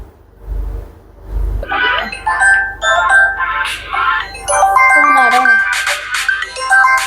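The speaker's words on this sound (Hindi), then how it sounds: "अरे वो तो मुझे भी पता है, फोन आ रहा है।" A phone ringtone for an incoming call plays as a bright repeating melody, loud and close, following two low thumps, while people talk over it.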